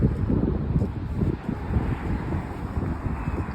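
Strong, dry wind blows hard across the microphone in a continuous low rumbling roar with gusty fluctuations, loud and close, with no speech.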